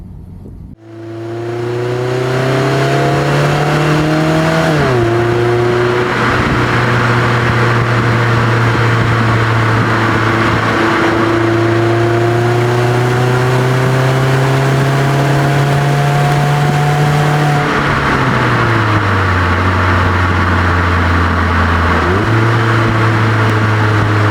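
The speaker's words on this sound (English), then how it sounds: "You gotta get this thing up into the RPMs, let it sing." A 2025 Mazda Miata on Potenza tires with a limited-slip differential, its engine winding up steadily through the revs with several brief dips at gear changes, a loud continuous drone close by with no talking.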